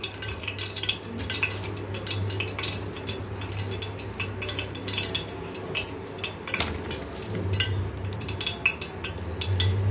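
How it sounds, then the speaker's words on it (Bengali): Beef pieces fry in a pan, a steady crackling sizzle with scattered sharper pops and occasional utensil clinks, under a faint low hum. "এখন বাকি মাংসটা ভাজি"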